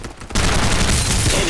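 Rapid automatic gunfire from a Farlight 84 firefight erupts after a brief quiet moment and continues loud and dense, a sustained fusillade close by.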